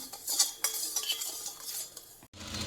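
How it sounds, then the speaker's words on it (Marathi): A metal spoon stirring lemon juice and sugar into a homemade sherbet in a glass, with quick clinking taps against the sides, then a brief pause and a softer rustle. "मस्त सरबत बनवते लिंबू साखर टाकून"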